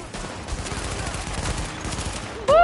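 Rapid gunfire crackles continuously in The Division video game, a dense run of sharp shots over about two seconds. It ends abruptly with a rising electronic tone.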